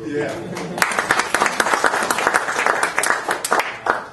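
Town hall meeting audience applauding, crisp individual claps from a small crowd building into scattered, fairly loud clapping, with a voice speaking at the start.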